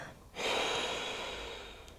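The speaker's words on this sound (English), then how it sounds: "we are actually breathing through our nose instead of through our mouth" Slow ujjayi breath drawn through the nose with the mouth closed, a steady close-up hiss of air that swells suddenly and then holds, easing off gradually over about a second and a half.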